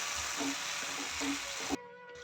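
Mustard seeds frying in hot oil for Bengali mustard hilsa, a steady crackling sizzle with soft stirring bumps that stops suddenly, leaving a quieter faint hiss.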